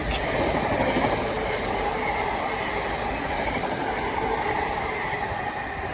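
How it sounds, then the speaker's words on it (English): A freight train rumbles steadily past nearby on the Chiltern Main Line, with continuous rolling wheel noise and faint metallic squeal, no one speaking. "We have another freight coming through."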